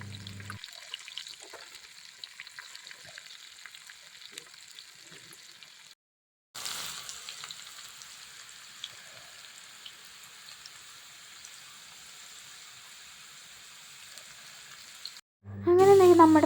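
Bitter gourd deep-fries in hot oil with a continuous fine crackle and bubbling hiss. A brief drop to silence occurs midway, and a louder burst of noise ends the clip.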